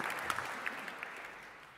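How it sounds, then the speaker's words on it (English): Brief, faint round of clapping from an audience at a jazz memorial event, fairly distant and fading out. "you can clap for Nick Brignola, man"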